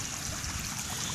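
Water from an irrigation pond rushes out through an outlet pipe in a garden, a steady faint gushing trickle heard alone for a brief moment.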